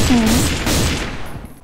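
A burst of gunfire from an old gun in the shooter game CrossFire, loud and close, with a quick rolling rattle that tails off.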